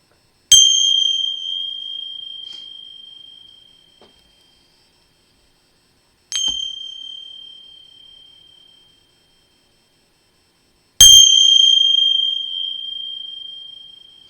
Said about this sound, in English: You're going to hear three louder noises, just these bells here.